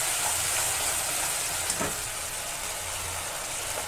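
Poppy seeds dry-frying in a pan give a soft, continuous sizzling hiss at close range, steady and fairly quiet, with a faint low rumble underneath.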